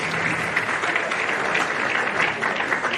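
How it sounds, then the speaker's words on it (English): A crowd at an end-of-season Victoria versus Queensland men's sporting event applauds the clubs in a steady, dense rush of clapping with no voice over it. "So a round of applause to all of you as well as the clubs"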